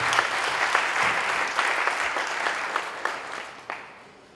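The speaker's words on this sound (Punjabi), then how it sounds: "ਇਹਨਾਂ ਦੇ ਨਾਂ ਦੀਆਂ ਤਾੜੀਆਂ ਹੋ ਜਾਣ ਥੋੜ੍ਹਾ" Audience applause at a Punjabi poetry book launch in Lahore, a steady wash of many hands clapping close by for about four seconds, with scattered sharper claps before it tapers off.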